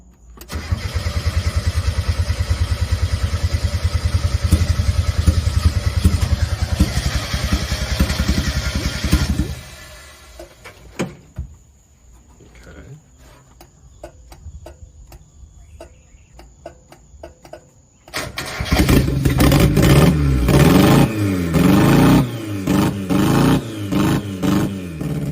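A 1990 Mazda Miata with rebuilt injectors, sitting seven years, cranks and fires up loudly, runs rough for several seconds, then drops to a quiet idle before revving loudly again near the end.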